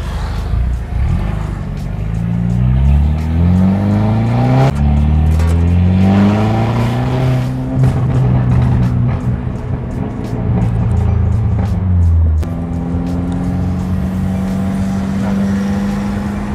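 A Mercedes C200 in S Plus mode roars through repeated loud, rising revs, its engine and exhaust heard close from inside the cabin with a window open, the pitch climbing and dropping between gear changes.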